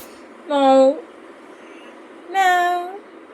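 Two clear cat meows, close and fairly loud, about two seconds apart, over a quiet background hum.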